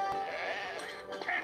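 A sheep bleats in a wavering, drawn-out cry, with faint background noise around it.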